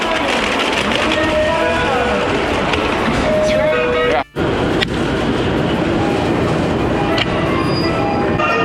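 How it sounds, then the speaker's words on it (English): A train rumbles steadily along the track near Ochanomizu, Tokyo, with a constant loud roar, brief faint wheel squeals, and a sharp momentary dropout midway. "this is a very special train"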